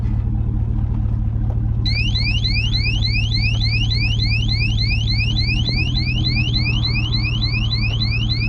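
A Trimax cable lock alarm shrills in rapid repeating rising sweeps over a steady low engine rumble from a vehicle on a bumpy gravel road, loud and continuous with no speech.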